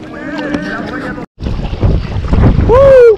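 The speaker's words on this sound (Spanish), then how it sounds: "Se puso ventoso, gente." Gusty wind buffets the microphone on a kayak trip across Laguna Guaniquilla, heavy low rumbling blasts after a brief dropout, mixed with water and boat noise and a short vocal sound near the end.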